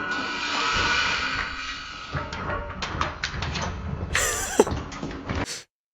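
AI-generated audio of a family falling down a flight of stairs sounds distant and hollow. Muffled thuds and scrapes rise over a hissing background, and near the end there are faint, high screams and bangs before it goes quiet.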